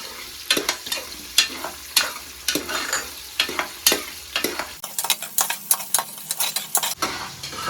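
Small shallots and large onions sautéing in a pan for sambar rice, a ladle scraping and stirring them in a steady run of repeated strokes over a continuous close sizzle.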